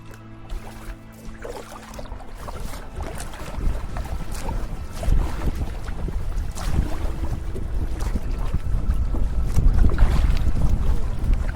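Wind gusting across a lake during a backcountry canoe trip in Quetico Provincial Park, a steady broadband rush with low rumble and water movement that builds gradually louder, no talking.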